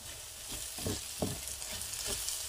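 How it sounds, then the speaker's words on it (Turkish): Hot oil sizzles steadily in a pan while a utensil stirs and scrapes it with sakarca greens, producing a few soft clinks and swishes. "tavama koyup bir çevirip tekrar bunu tencereme geri boşaltıyorum"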